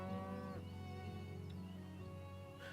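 Cattle moo in the Farthest Frontier settlement-building video game: one drawn-out, fairly soft bovine call that rises and falls, with no talking over it.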